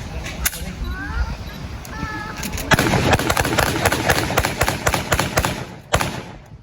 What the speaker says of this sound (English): even semi-automatic, you can still fire quite a lot of rounds in one go